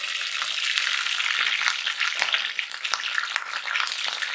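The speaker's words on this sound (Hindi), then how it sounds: "बैंगन हमारे तेल में फ्राई हो चुके हैं" Eggplant pieces fry in hot oil in a kadai for a dhaba-style baingan sabji, giving a loud, dense, continuous sizzle with occasional crackling pops and light stirring scrapes, with no talking.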